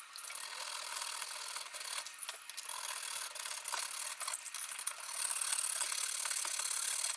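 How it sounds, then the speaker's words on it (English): Small welder tip cleaning files rasp in the nut slots of an Imperator EV-H1 guitar, a faint, steady scratchy filing with repeated short strokes and no talking. "next job, actually cutting the proper nut slots to size"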